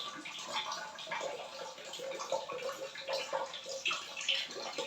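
Rainwater drips and splashes into a bucket at home on a rainy day, a soft, irregular patter of drops close by with no voices.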